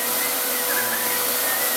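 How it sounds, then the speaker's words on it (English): A Dyson vacuum cleaner runs continuously over sand on a floor, producing a loud, steady, airy whine with a faint shift in pitch midway and no voices. "we're going to run over it with the Dyson vacuum that everybody runs out and pays 500 bucks for"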